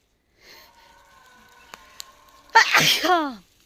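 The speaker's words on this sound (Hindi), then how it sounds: "छींक आ रही है" A woman gives a single loud, close sneeze with a sharp intake and burst, heard alone after a stretch of faint background hum.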